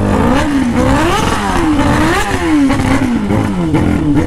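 A carbureted Honda Hornet motorcycle engine revs loud and close, its pitch climbing and falling in repeated rising sweeps with a raspy, continuous roar and no talk.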